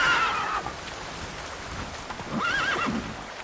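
Geralt's horse Roach in The Witcher 3 lets out two whinnying neighs over a soft background of hooves clip-clopping, fairly quiet and close.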